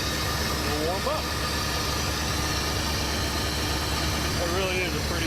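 A 1974 AMC Javelin V8 idles steadily while warming up after fuel pump trouble, a continuous low engine drone with fan-like hiss, with brief whistling tones rising over it near the start and end.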